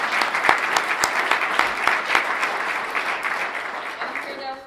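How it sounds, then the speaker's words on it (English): An audience at a community address claps for a panel, a full, sustained round of applause with some cheering voices mixed in that gradually fades toward the end. "Let's give our panel another round of applause."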